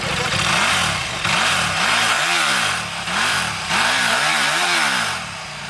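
Honda VFR 400 motorcycle engine revving repeatedly, close and loud, with rising and falling pitch sweeps as the throttle is blipped several times.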